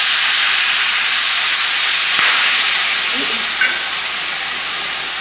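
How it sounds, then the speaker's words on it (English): Soy sauce poured into a pan of marinated chicken adobo sizzles and bubbles steadily, a loud continuous hiss that stays close and even throughout, with a brief clink partway. "I'm going to put in my soy sauce"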